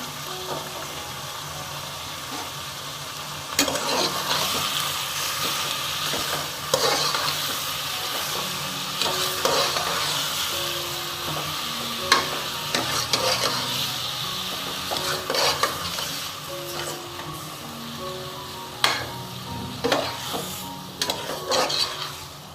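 Chicken gravy ingredients, onions and spices among them, fry in a pan, with a steady close sizzle broken by repeated scrapes and clinks of a spoon stirring against the metal; no one talks.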